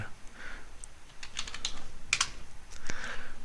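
Typing on a computer keyboard while entering shell commands over SSH into a FreeNAS server, a quick irregular patter of key clicks in short clusters, close and clear, with no talk.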